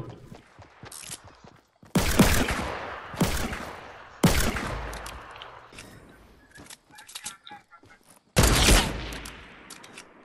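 Fortnite gunfire comes in several loud, sharp bursts of rapid shots separated by quieter gaps, with mechanical clicks and rattles between volleys.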